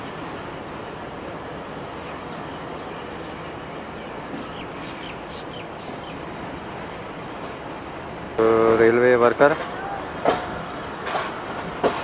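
A Pakistan Railways Awam Express train rumbles steadily along the track with a low continuous roar, then a loud horn blares near the end followed by rattling clatter.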